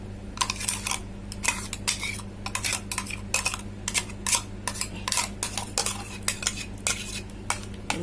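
A utensil stirs ground coconut into a prawn curry in a pot, sounding as a run of close, loud metallic scrapes and clinks in an uneven rhythm over a steady low hum, with no speech.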